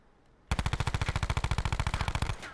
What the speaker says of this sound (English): I know people who's hearing these shots, they're gonna come kill me.